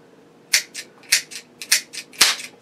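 Several sharp cracking pops from a blank gun, spaced irregularly about half a second apart, each followed by a softer echo-like burst, close and fairly loud with no talking.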